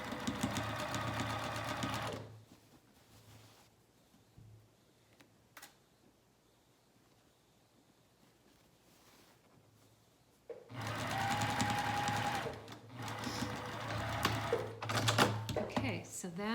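A sewing machine stitches notches on pajama pants in two bursts of quick, rattling stitching, separated by a long quiet pause.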